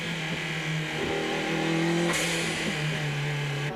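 A Ford Sierra Group A race car at the Bathurst 1000 touring car race in 1991, its engine droning loud and close from onboard, pitch rising and falling through gear changes, with no talk.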